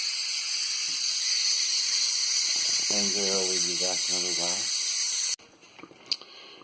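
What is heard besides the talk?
pressure cooker releasing steam after cooking pot roast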